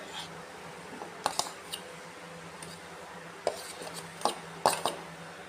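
A utensil scrapes and clinks against a pan while fried potato, carrot and nuts are mixed into cabbage, giving scattered sharp metallic taps over a low, quiet background.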